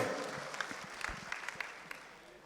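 An audience applauds in a faint, continuous patter of many hands, with a few sharper claps standing out and some murmur from the crowd.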